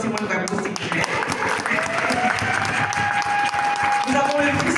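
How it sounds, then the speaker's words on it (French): Audience at a cultural day gathering in Paris applauding a political delegation, a steady dense wash of clapping throughout with a sustained tone and some speech mixed underneath. "Je voudrais que vous puissiez applaudir la délégation du Dr Simone Gbagbo, s'il vous plaît."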